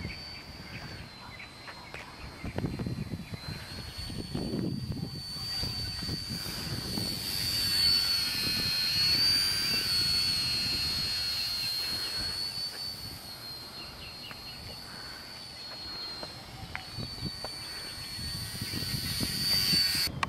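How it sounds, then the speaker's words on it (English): An airplane flies overhead, a broad jet roar that swells toward the middle and fades slightly, with faint rustling and handling noise nearby. "Airplane."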